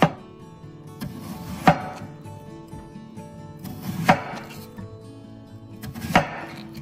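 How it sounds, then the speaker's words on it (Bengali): A knife cuts a peeled ash gourd into thick round slices on a board, three firm distinct chops spaced about two seconds apart, close and clear, with no voices. "এবার চাল কুমড়োটা পিল করে নিয়ে একটু মোটা মোটা করে গোল গোল করে কেটে নিতে হবে।"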